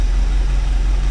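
A 1984 motorhome engine running on a temporary fuel hookup, a loud, steady low rumble heard up close with no break.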